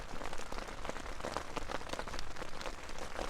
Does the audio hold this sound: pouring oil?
no